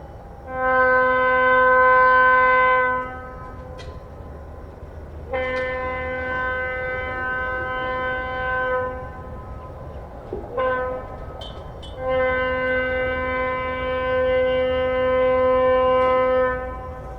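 An ALCO switcher locomotive running down a downtown street sounds its horn in long, loud, sustained blasts, pausing briefly between them, with a low rumble underneath.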